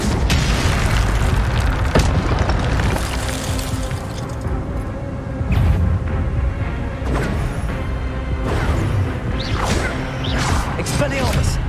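Rapid fire-spell blasts from Hogwarts Legacy combat burst out in repeated booming whooshes, layered among other spell effects in a dense, continuous clash of crackles and impacts with no pauses.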